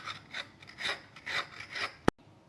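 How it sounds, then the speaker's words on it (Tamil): Ridge gourds being peeled and cut in a home kitchen, heard as repeated soft rasping scrapes in an uneven rhythm, close and fairly quiet, ending with one sharp knock. "இந்த மாதிரி 2 பீர்க்கங்காய் எடுத்து தோல் சீவி கட் பண்ணி எடுத்துக்கலாங்க."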